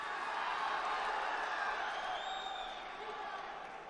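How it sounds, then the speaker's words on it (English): A judo arena crowd roars and calls out steadily, urging a fighter forward; a dense, sustained wash of many voices at moderate distance, slowly fading toward the end. "I think they're just baying for Tilovov to go forwards."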